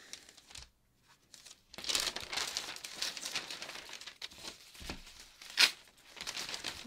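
Paper crinkling and rustling as a sewing pattern for a cowl neckline is cut out, with soft scissor snips and bursts of close handling noise broken by short quiet gaps.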